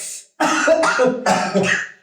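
Several harsh, rough coughs close by during a podcast recording, coming in quick succession after a short pause.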